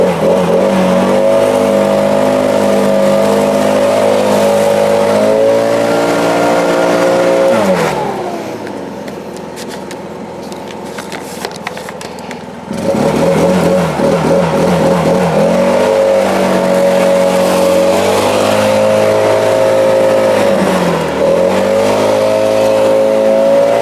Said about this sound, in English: hook up that blower over there and blow all this stuff off